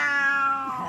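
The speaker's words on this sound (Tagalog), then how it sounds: "Kinaaliwan ng netizens ang tila singing collab ni Kapuso Drama King Dennis Trillo at kanilang alagang pusa." An oriental shorthair cat gives a drawn-out, tonal meow that bends downward, blending with a sung melody in a domestic setting, close and clear.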